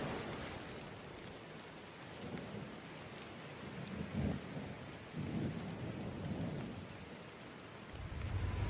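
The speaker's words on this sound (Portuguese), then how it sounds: "Era como se o vento e a chuva estivessem empurrando o corpo de Musashi para o lado contrário" Steady rain with rolling thunder and gusting wind, a broad continuous wash punctuated by low rumbles that swell around the middle and again near the end, with no voices present.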